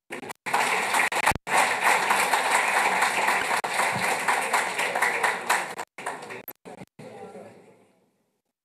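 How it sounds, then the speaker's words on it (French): Clapping from the audience at a social truce signing ceremony, a dense, steady burst of applause that fills most of the clip, breaks into scattered claps and then fades to silence. "Ces mesures que vous pouvez encore une fois de plus applaudir"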